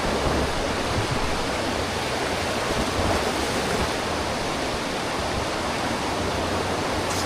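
Rushing water at Taytay Falls roars steadily and loudly, a dense unbroken wash of falling water and churning waves that runs the whole time without a voice over it.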